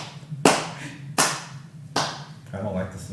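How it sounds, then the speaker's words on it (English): A slow clap of three loud, evenly spaced hand claps, close to the listener, then a softer rustle at the end. No one speaks. "I don't like the slow clap"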